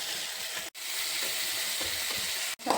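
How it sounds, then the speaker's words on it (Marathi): Bitter gourd (karela) with tomato and red chili powder frying in a pan, a dense continuous sizzle with stirring scrapes, cut by two brief silent gaps. "छान शिजू द्यावं आणि मधून त्याला परतत जावं।"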